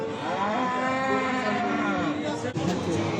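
Cattle and calves low at a livestock market in Beylaqan, Azerbaijan: one long, loud, close moo with rich harmonics sustained for about two and a half seconds, ending in a brief break, with faint crowd noise around it.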